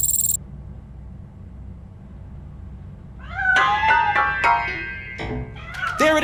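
A cat meows in the video game Robocop: Rogue City, hiding inside a piano: a series of several clear, rising and falling meows, fairly close and loud after a quiet stretch.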